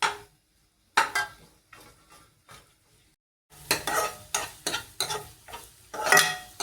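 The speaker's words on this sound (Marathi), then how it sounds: "आता व्यवस्थित आता तेलामध्ये आता परतून घेऊया" Onions sauté in oil in a pan for a bhendi (okra) bhaji, heard as intermittent scraping stirs and clinks of a spoon against the pan, separated by quiet gaps, with soft sizzling underneath.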